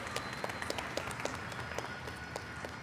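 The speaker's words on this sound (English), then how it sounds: "You can clap." Graduates at a college commencement ceremony clap in a large hall, with scattered, distant claps over a steady crowd wash at low level.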